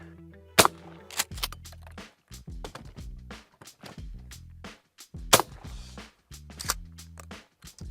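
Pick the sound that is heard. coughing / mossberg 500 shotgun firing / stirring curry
mossberg 500 shotgun firing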